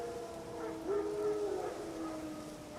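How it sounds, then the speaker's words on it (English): Wild dogs howl in the distance in The Witcher 3 video game, a faint drawn-out wavering howl over a soft ambient background. "Wild dogs."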